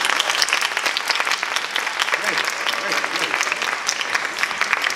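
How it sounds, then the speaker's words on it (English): Audience applause for a volunteer at a science competition finals, steady dense clapping from a crowd filling the whole stretch, with a voice speaking briefly over it. "A big applause for the first volunteer."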